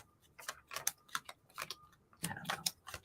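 Tarot cards being shuffled at a home reading table, a quick run of soft crisp riffles and taps in irregular bursts, close and quiet with no talk.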